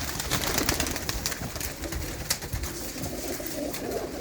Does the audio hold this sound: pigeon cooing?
yes